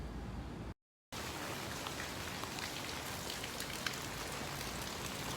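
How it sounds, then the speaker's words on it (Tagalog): Steady rain patters on a surface, a constant hiss of drops broken by a brief moment of silence near the start. "Tapos karon ulan na yun."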